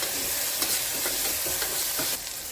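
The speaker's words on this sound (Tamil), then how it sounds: "இஞ்சி பூண்டு பேஸ்ட் சேர்த்துக்கலாம். நல்லா வதக்கிக்கலாம்." Onions, tomato and ginger garlic paste sautéing in a pan for mutton kuzhambu, a steady loud sizzle with occasional stirring scrapes, no voices.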